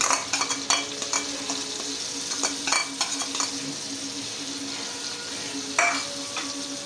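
Green chillies fry in a pan with a constant soft sizzle, while a spoon repeatedly clinks and scrapes against the metal in irregular stirring strokes, with no voices.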